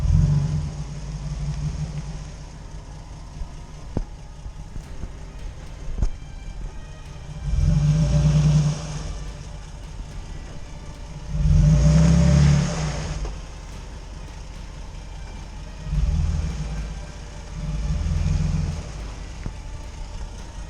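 A car's engine rumbles low and steady on a slippery roadside while the vehicle slides toward a ditch, swelling into several louder revving bursts, two long surges and two shorter ones, close to the microphone with no talking.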